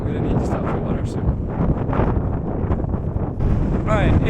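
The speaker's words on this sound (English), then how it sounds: "it is so windy." Strong wind buffets the microphone in loud, continuous gusts near a hiking peak at Lewis Pass, New Zealand, roaring and rumbling with bursts of higher rushing noise.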